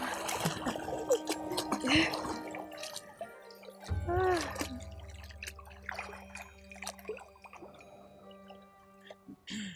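Water drips in scattered, irregular drops against quiet background noise, with faint tonal sounds and low hums in between.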